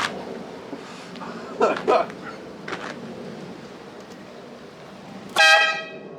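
A loud, brassy multi-tone blast from a cheap train horn fitted to a Land Rover near the end, after a quieter stretch with clicks and faint rustling around the vehicle.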